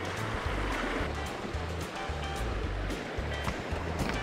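River water rushing and splashing around the legs of someone wading to fly fish in a river at Fresia, a continuous loud, close gurgling wash with no talking.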